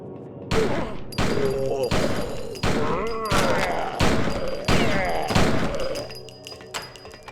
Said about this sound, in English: Back away while shooting, keeping maximum distance between yourself and the night crawlers